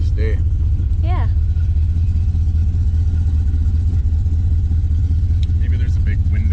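A Mopar muscle car engine runs steadily with a loud, deep, constant rumble up close, while voices speak briefly over it.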